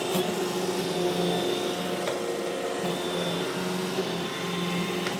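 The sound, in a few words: iRobot Roomba E5 robotic vacuum cleaner running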